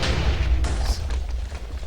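Uranium TNT detonates in a Minecraft-style video game, a loud deep booming blast with a rumbling tail that fades over a couple of seconds.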